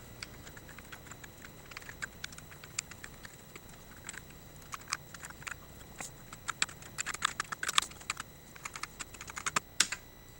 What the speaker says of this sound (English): Keyboard is doing keyboard things.